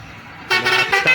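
The Vimaleshwar bus pulls in and sounds its horn in a few short honks over engine noise, loud and close, with no talk.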